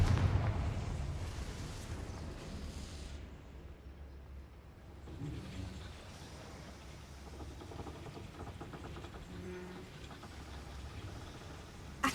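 A Confringo fire spell from Hogwarts Legacy goes off as a loud, broad blast, then fades into a long rumbling tail of crackling noise.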